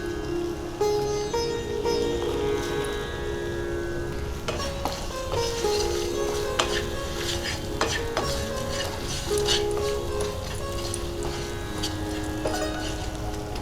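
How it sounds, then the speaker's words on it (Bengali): A pointed gourd curry being stirred in a pan as sugar and turmeric are mixed in, giving a steady close scraping and gentle sizzling with occasional clinks of the spoon against the pot. "চিনিটা দিয়ে ভালো করে মিশিয়ে"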